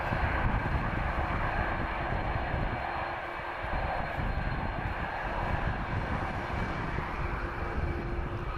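A Vueling airliner in Disneyland Paris livery at Lisbon Airport gives off a steady, continuous jet engine roar at moderate loudness throughout.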